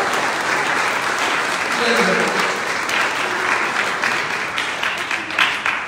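A church congregation at Sunday Mass applauds for several seconds, a dense even wash of clapping in a reverberant room, with a voice speaking faintly underneath.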